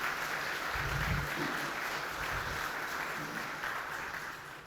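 A church congregation applauds in praise during a Communion service, a steady wash of clapping from a large crowd that holds at an even level throughout, with a few low thumps beneath it.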